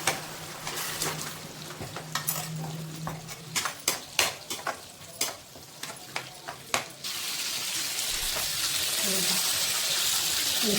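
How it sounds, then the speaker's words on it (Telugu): A spoon scrapes and knocks repeatedly against a pan while onions and blended tomato juice are stirred for fish biryani, rhythmic clinks over a steady close sizzle that grows into a louder, even frying hiss near the end. "ఆనియన్స్ మగ్గినాయి కదా, ఇందులో వేసేసి మంచిగా కలుపుకోవాలి"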